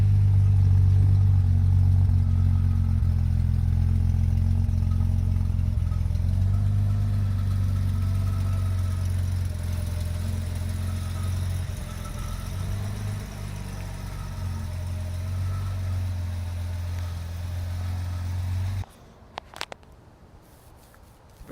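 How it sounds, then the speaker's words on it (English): A 1969 Jaguar E-Type Series II 4.2 roadster's exhaust idles steadily with a deep, low rumble for close to twenty seconds, then cuts off, leaving a few faint clicks. "Just give you a listen to the exhaust."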